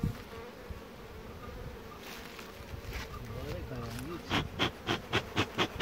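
Honeybees hum around an opened hive on a chestnut mountain, making a steady dense drone, while a voice speaks partway through and rhythmic puffing or scraping sounds come in near the end.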